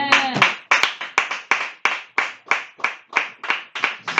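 A church congregation claps in steady rhythm to acclaim Jesus, with a dozen or so sharp, evenly spaced claps from many hands, close and fairly loud.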